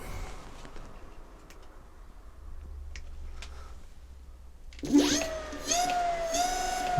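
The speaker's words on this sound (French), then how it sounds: "Donc là on entend qu'il tourne à fond." An electric motor on a Kaabo Mantis GT scooter spins up to full speed after quiet background noise, producing a high whine with rising tonal pitch and rattly buzzing that starts abruptly midway and stays loud to the end.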